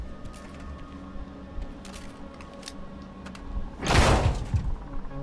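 A mechanical door opens in Quantum Break amid a low ambient hum, with small clicks and then a loud whooshing slide and thunk near the end.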